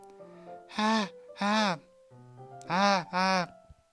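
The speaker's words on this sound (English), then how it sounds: "It sounds like breathing." Heavy, drawn-out breaths in the video game Doki Doki Literature Club come in two pairs of loud gasping inhales and exhales, close by, with a low hum and faint background tones between them.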